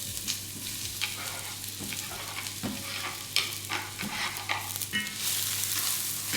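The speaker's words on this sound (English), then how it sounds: "In goes the onion and the garlic together." Onion and garlic frying together in a hot pan for a mushroom risotto, giving a steady broadband sizzle with occasional stirring scrapes and clicks, close and continuous throughout without talk.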